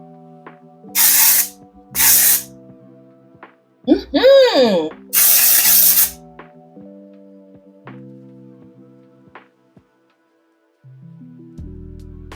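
Dry shampoo sprayed onto a wig in four short hissing bursts, two close together, then two more after a brief pause, over quiet background music.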